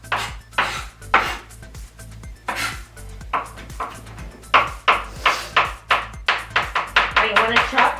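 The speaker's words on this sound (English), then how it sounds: "You want to chop this and get it real fine. You don't want to have to bite into a big piece of garlic." A knife chopping garlic finely on a cutting board for homemade pizza sauce, rapid rhythmic knocks that start sparse and speed up into a steady close patter.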